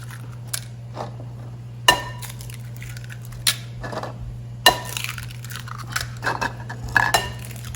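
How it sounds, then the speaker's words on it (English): Eight eggs cracked one after another against a bowl in a home kitchen, a series of sharp, separate taps and clinks spaced a second or so apart over a low steady hum. "And we're going to put in 8 eggs."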